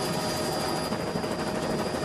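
A helicopter hovers low over floodwater during a rescue, its wheels in the water as it evacuates a stricken truck's passengers. The rotor thrum is continuous, steady and loud, with no voices over it.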